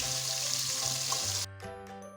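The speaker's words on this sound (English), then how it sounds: "I started off by frying my onion in my heated vegetable oil" Steady hiss of onion frying in hot vegetable oil, close and continuous, with a low tonal hum underneath that drops away partway through.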